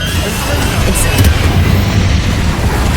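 An Incendio fire spell in Hogwarts Legacy gives a loud, low whooshing rumble of flame amid ongoing combat noise, steady throughout with a brief bright crackle near the middle.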